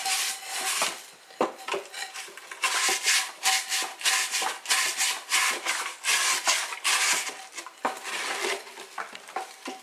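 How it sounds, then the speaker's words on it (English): An ordinary floor scrubbing brush works rust from inside an old kettle, giving repeated scraping strokes in an uneven rhythm, fairly close and moderately loud with brief pauses between strokes. "I've got an ordinary floor scrubbing brush, and I'm going to put that on the inside"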